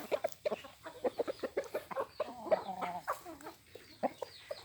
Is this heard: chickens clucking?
yes